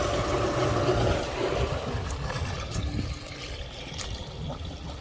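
Swampy pool water drains out through the pump filter, a loud gurgling, rushing flow at first that eases into a softer, bubbling trickle with occasional sputters.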